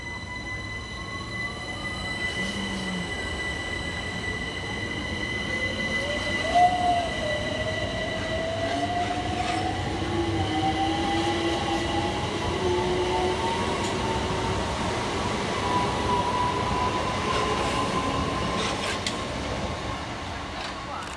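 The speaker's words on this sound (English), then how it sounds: "Next out to depart is 376032 and 376014 with the 1059 Southeastern service from London Bridge through to Hayes." A pair of Southeastern Class 376 electric units pulling out of a suburban London station, a steady rolling rumble with rising whining motor tones and high squealing wheels, moderately distant and sustained throughout.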